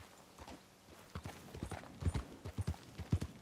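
Horse hooves clip-clop steadily at a riding pace in Red Dead Redemption 2, growing louder and more distinct toward the end, with no talk over them.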